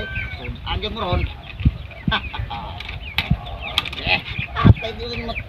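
Chickens cluck and squawk in bursts nearby, with a person talking over the farmyard noise.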